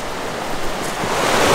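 A mountain creek flows in elk country in Wyoming, a steady broadband rush of water that swells slightly louder toward the end, with no voices.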